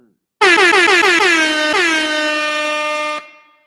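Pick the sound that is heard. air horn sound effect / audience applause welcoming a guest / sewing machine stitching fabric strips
air horn sound effect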